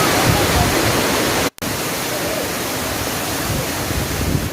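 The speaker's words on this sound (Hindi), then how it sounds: "वाटरफॉल के बिल्कुल नीचे खड़ा हूँ जी।" Roaring water of Manthoka Waterfall in Skardu, Gilgit-Baltistan, Pakistan, heard from right at its base as a loud, steady broadband rush that fills the whole stretch, broken only by a momentary dropout.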